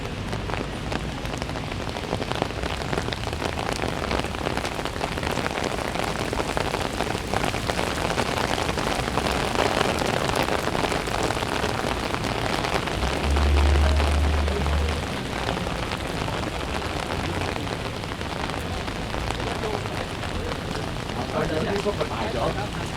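Spring rain falls on car-free Bloor and Yonge Streets in Toronto, a steady dense hiss of drops on pavement with a low city rumble underneath that swells briefly near the middle.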